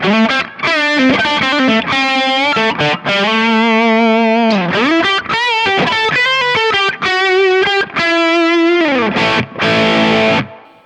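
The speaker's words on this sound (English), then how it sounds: "it gives the original tone a really nice push, a good drive" Electric guitar through a Kemper Profiling Amp with a mild drive effect adding push, ringing lead phrases with bends and slides played loud and solo, separated by short gaps, no speech.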